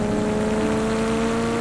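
Ferrari F40 sports car with a twin-turbo V8 holds a loud, steady engine drone with strong tonal harmonics, sustained evenly throughout without pauses or speech.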